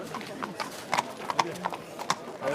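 Horses' hooves clip-clop in a quick, uneven rhythm of sharp knocks close by, with a faint voice in the background.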